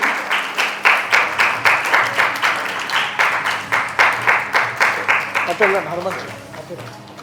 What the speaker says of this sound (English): Big round of applause to the Bangalore team.